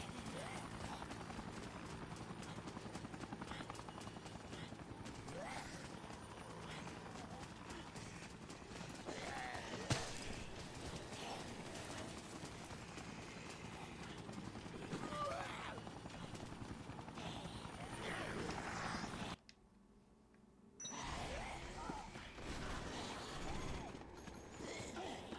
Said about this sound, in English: it's just the helicopter bombing the shit out of everything